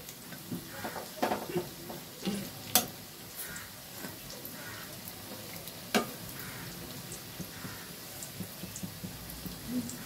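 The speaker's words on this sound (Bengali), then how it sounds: "তেলটা খুব ভালো মতো গরম হয়ে গেছে, আমি একটু হালকা তেলে দিয়েছিলাম যাতে বড়ার ভেতরটা ভালো করে ভাজা হয়।" Red lentil fritters sizzle in hot oil, a soft continuous crackle broken by occasional sharp clicks and taps of a utensil, close by and with no talking.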